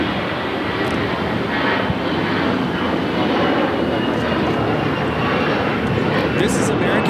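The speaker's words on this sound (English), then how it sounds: "This is American Airlines 1995 taking off on this A321." American Airlines Airbus A321 jet taking off at LAX, a loud continuous engine roar that holds steady throughout, with people talking over it.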